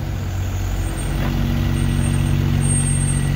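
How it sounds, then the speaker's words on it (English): A fire department auxiliary division step van truck, unit 1330, rolls past while responding to a second alarm fire, its loud, steady engine roar filling the stretch with a faint brief hiss partway through. "It's rare I catch that responding. That's going to that second alarm fire right now."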